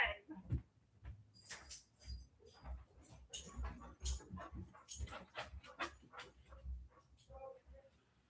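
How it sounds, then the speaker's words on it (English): A pet dog makes soft whimpers, yips and a few barks close by, with light jangling and handling noises between the sounds. "I gotta go get my dog."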